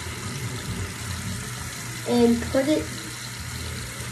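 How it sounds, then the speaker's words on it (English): Hot water runs from a bathtub tap, a steady splashing rush with a brief louder surge midway, as a voice speaks briefly. "put hot water on,"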